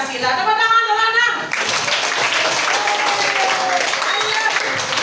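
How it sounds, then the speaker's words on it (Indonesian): Schoolchildren in an elementary classroom burst into steady, lively applause for several seconds after a short stretch of an adult voice speaking. "Tepuk tangan, anak-anak."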